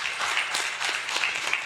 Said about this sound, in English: can we give Krista a round of applause for her presentation here